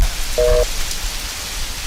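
Rain pours down outdoors during a school annual day performance, a loud, dense hiss of falling drops over a brief stretch, with no voices.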